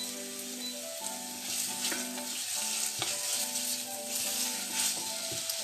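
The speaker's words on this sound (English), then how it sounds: "We're just stir frying our onions. Let them get sizzling hot in there." Onions stir frying in a hot pan for Portuguese caldo verde soup give a steady, close sizzle with faint stirring scrapes and a low hum, and no voices.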